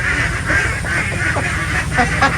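Egg-laying ducks quacking in a pen, a dense chorus of repeated nasal quacks overlapping close by, loud and continuous with no speech.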